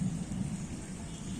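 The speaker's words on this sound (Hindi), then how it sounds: "गड़गड़ाता हुआ बादल कहता हुआ कि" Thunder rumbles low and heavy beneath a steady wash of falling rain during an approaching rainstorm, the deep roll swelling slightly and staying continuous, with no voices.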